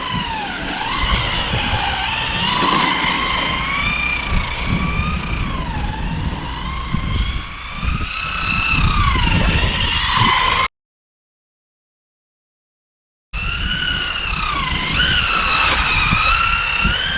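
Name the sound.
Maverick Quantum R RC car driving with SP Racing wheels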